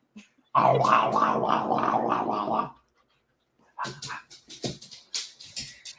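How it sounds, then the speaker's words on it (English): A dog gives a loud, close growl lasting about two seconds, then a brief silence. Short, broken whimpering and yelping sounds follow. "I think you're gonna have to fight with a dog, Crazy Ann."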